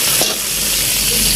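Vegetables for pancit drop into a hot oiled pan and sizzle loudly and continuously at close range, with no talking.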